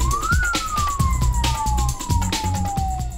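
A Kenya Red Cross ambulance siren wails nearby in a long rising then slowly falling sweep, over a rumbling engine and rhythmic knocking.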